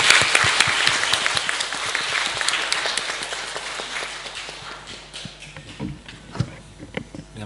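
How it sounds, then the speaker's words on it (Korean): A church congregation at a Sunday service claps in encouragement, a dense burst of applause that gradually thins into scattered individual claps toward the end. "격려의 박수 함께 좀 드리겠습니다."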